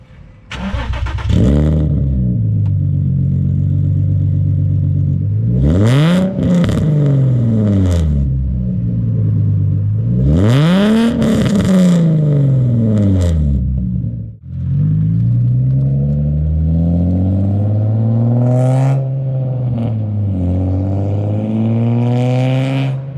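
An Infiniti G35 fitted with testpipes and a new exhaust cold-starts and revs, a loud deep idle rumble broken by several sharp rising revs and falls, heard close and alone.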